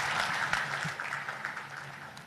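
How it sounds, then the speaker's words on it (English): Audience applause at the grand launching of the Pier 88 port, a steady, fairly distant wash of many clapping hands, soft overall and tapering slightly toward the end. "A big round of applause, please."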